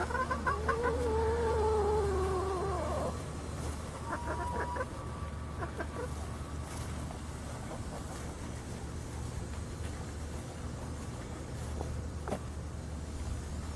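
Chickens squabble over a snake, with loud, close squawking calls for the first few seconds, then scuffling and a few short clucks over a steady low background rumble.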